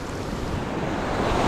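Ocean waves surging and breaking on the beach at Gulf Shores, Alabama, a steady loud broadband wash of surf with wind rumble on the microphone, no voices.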